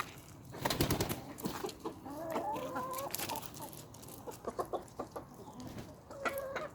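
Hens clucking after a fight between two of them, faint irregular clucks and short calls in an outdoor coop, scattered with quiet gaps.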